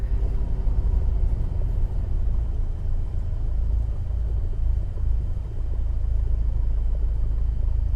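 A little Cessna aircraft engine idles in Microsoft Flight Simulator, a dense, steady low rumble that holds loud and even throughout.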